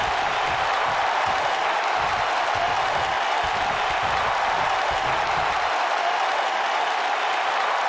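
Crowd at a wrestling match applauding and cheering in a steady, dense roar that holds for the whole stretch, with a faint voice or two mixed in.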